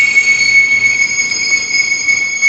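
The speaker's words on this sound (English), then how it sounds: "there's a train track on the other side of this building that's slightly out of view. But there's a train over there," An industrial freight train on nearby tracks gives off a sustained, high-pitched wheel squeal that holds steady throughout over a low rumble, fairly loud with no talk.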